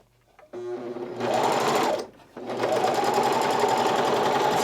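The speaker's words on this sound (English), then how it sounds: "I'm going to go ahead and I'm going to sew a little line here and see where we're at." A serger stitches a line of seams on fabric for a classic tee, starting with a slow whir, running fast and loud, pausing briefly, then resuming a steady high-speed mechanical buzz close by.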